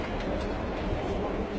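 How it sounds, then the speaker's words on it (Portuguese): A metro train in Munich runs steadily, a dense low rumble with broadband rolling noise that holds an even, continuous level throughout. "a gente vai pegar o metrô pra ir pro hotel"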